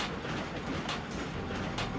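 A train in the video game Ratchet & Clank rolls along in a dense, steady rumble with faint rhythmic clacking throughout.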